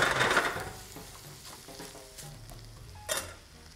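Onions and peppers sizzle and crackle while frying in a pan as a utensil stirs them, loudest at the start and then settling into a steady hiss with scraping, plus one brief burst near the end.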